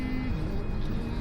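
A car driving through town, a steady close engine and road rumble with a faint tonal hum that shifts slightly, continuous and without talk.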